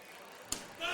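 Thrown axe striking and splitting a wooden target at an axe throwing championship: a sharp thud with a crack near the middle, then a swell of crowd reaction and another impact at the end.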